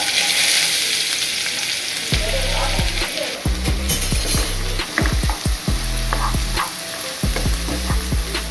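Three large, finely chopped onions fry in about two tablespoons of hot oil for Tamil-style muttai parotta. A loud, steady sizzle runs throughout, broken by repeated clinks and scrapes of a spatula stirring against the pan.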